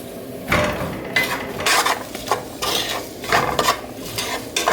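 White rice toasting in ghee in a pan, with a steady soft sizzle and repeated bursts of a utensil stirring and scraping against the pan, close and moderately loud, no voices.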